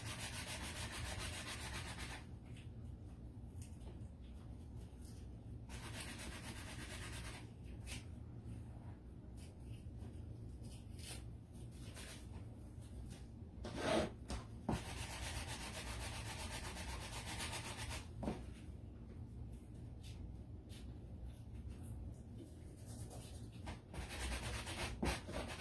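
A nearly new sanding block is rubbed over wood for a small shelf-sitter sign in repeated strokes with short pauses between them, a soft close rasping that continues steadily with occasional bumps.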